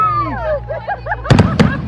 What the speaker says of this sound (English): I think they're what you call a maroon.